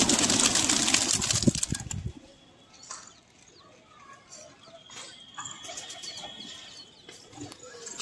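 Gola pigeons in Kanpur coo softly among chirping birds after a loud burst of noise at the start, with faint voices and children in the background.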